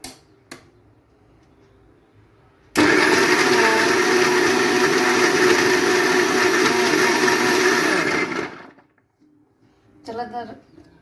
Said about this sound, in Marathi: आणि मिक्सरला आपण ग्राइंड करून घेऊया